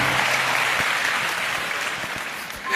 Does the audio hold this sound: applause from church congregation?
yes